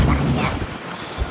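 Strong wind roars and waves wash around a fishing boat at sea during a storm, a loud, dense rushing noise with a thump of water near the end.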